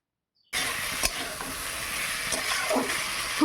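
Drumstick stems and potatoes frying in oil in a pan, a steady close sizzle that starts abruptly, with a few scraping stirs and clinks along the way.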